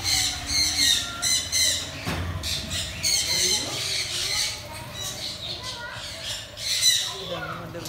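Crowded birds squawking inside the large Pallikunnu aviary, which also keeps fish; loud, overlapping shrill calls come in rapid bursts throughout, with a busy background.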